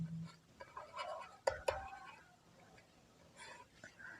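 A pen scratches across paper at close range, writing down numbers in short strokes and taps, with a soft voice murmuring underneath.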